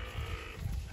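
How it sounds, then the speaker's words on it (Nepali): Goats in a village goat shed in Waling, Nepal, give a short bleat over a close, dense rumble of farmyard noise. "यो बाख्राहरू चाहिँ"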